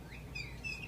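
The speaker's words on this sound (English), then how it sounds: "Play and play and play with that stupid bird. And this is the sound I get to listen to, Sue, every" A pet bird chirps in a room, a few thin high tweets and trills close by over a low background hum, with no talking.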